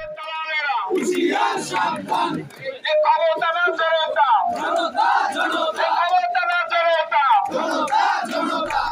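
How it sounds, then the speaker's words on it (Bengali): Students at a medical college in Barisal loudly chant protest slogans demanding the director's resignation, their voices rising and falling together in a continuous, rhythmic crowd chant. "এ সময় শিক্ষার্থীরা পরিচালকের পদত্যাগের দাবিতে বিভিন্ন স্লোগান দেয়।"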